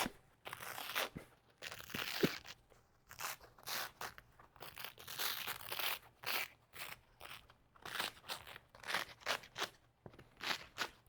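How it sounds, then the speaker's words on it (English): An old seat cushion on a lightweight Porsche bucket seat is peeled up, producing repeated close tearing and crinkling bursts in an uneven rhythm, with brief quiet gaps between pulls. "Just going to peel this up."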